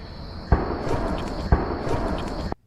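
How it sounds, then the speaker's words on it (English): Two distant gunshots heard from a campsite, a second apart, thud through a steady background of outdoor noise and a high continuous whine, with another shot cut off at the end. "As you can hear, there are gunshots in the background."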